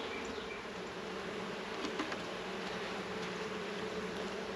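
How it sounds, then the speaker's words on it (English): Agitated honeybees buzz in a dense, continuous drone at an open hive, steady and fairly close, with no voices over it. "Bees are getting a little agitated."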